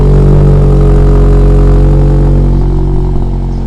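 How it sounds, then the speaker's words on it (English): Car exhaust revving loud and close, a steady deep rumble holding for a few seconds and easing slightly at the end. "I like exhaust noises."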